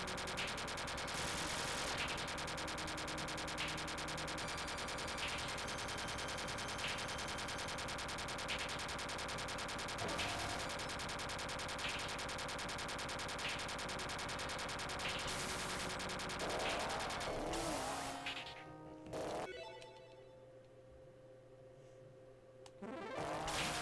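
Rapid gunfire from a Capcom Classics arcade game while fighting the Sand Dragon boss chatters over looping game music, with occasional louder bursts, then cuts out near the end into a quieter stretch.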